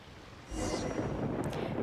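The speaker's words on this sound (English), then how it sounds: "In but a few breaths, thunder and lightning begin raging across the skies." A thunderstorm in the video game Genshin Impact, with steady rain and wind swelling into a loud, rolling rumble of thunder up close, and no talking.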